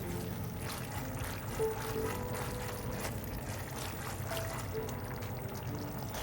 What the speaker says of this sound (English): Heat a little oil in a wok. Then add the sauce.